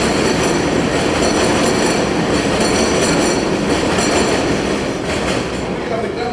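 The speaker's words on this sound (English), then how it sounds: "Don't overtalk the train. Don't overtalk the train. I can't hear you." Train passing close by an outdoor community meeting in Medina, a loud continuous rumble with wheel clatter and squealing that drowns out everything for several seconds.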